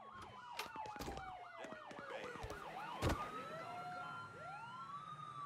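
Wailing police siren from the Mafia III video game, a steady cycling yelp rising and falling over a low city rumble, with a brief loud thump midway and no talking.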